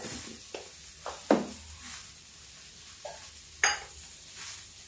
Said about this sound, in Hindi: अब इसमें हम डालेंगे थोड़े से मूंगफली के दाने